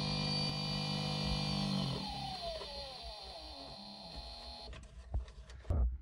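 A brushless motor on a mini lathe, running at 2000 RPM, hums with a steady tonal whine that sweeps downward as it spins down, then falls quiet before a few clunks.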